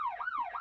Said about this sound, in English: I'm gonna create some police sirens outside of the building, just at the door